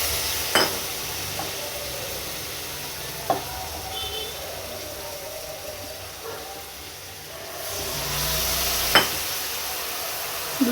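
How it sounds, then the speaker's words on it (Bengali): Spiced Bengali chickpea dal with turmeric, cumin, coriander and garam masala simmering in a pan, a soft continuous sizzle with occasional sharp spoon clinks against the metal as it is stirred. "2-3 মিনিটের মতো নাড়াচাড়া করব।"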